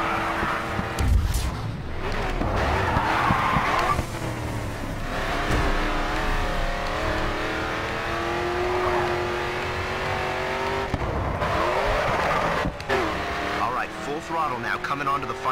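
Race car engine in a racing video game, revving and accelerating with tire squeal, sustained and loud through most of the stretch, with a spoken voice running over it.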